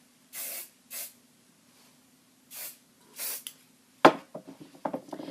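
Several short bursts of aerosol hairspray, hissing close by with pauses between, followed by light clattering and handling sounds.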